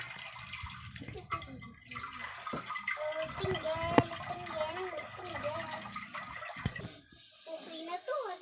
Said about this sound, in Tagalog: Lagyan ko na ng water